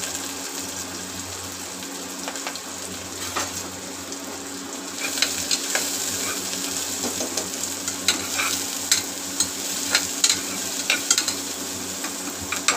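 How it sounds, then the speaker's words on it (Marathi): Chopped onion and curry leaves sizzle in hot oil as a tempering for chicken pulao, with a continuous frying crackle and scraping stir strokes that grow busier toward the end; nobody speaks. "हा घेतलेला कांदा मी परतायला टाकणार आहे, फोडणी घेणार आहे"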